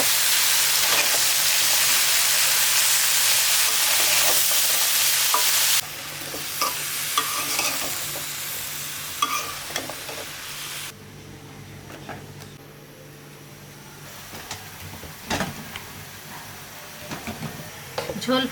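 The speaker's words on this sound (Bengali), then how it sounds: "কুমড়ো বড়িগুলো কষানো শেষ এখন সবজি দিয়ে আবারও কষাবো" Vegetables stir-fry in a pan with pumpkin bori, a loud dense sizzle at first that drops in steps to quieter frying with scattered spatula scrapes and knocks, close by.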